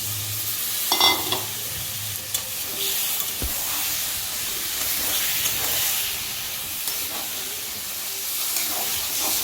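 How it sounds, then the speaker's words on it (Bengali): Chicken sizzling and being stirred in a pan of spiced masala for a Bengali chicken jhol, a steady close frying hiss with occasional spoon scrapes and no talk. "এবার আমরা চিকেনটাকে একটু খুব ভালো করে কষিয়ে নেব।"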